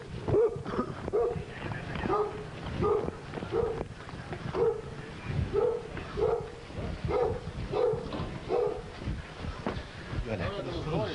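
A dog barks repeatedly in a steady rhythm of sharp, fairly loud barks near the back of a business suspected of using stolen parts, with people talking over it throughout.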